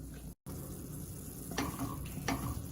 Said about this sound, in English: You can see our roux is starting to darken on the bottom.